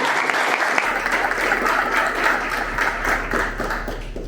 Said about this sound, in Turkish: O zaman bir alkış daha.